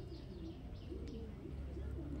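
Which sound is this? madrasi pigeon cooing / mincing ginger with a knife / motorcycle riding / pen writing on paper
madrasi pigeon cooing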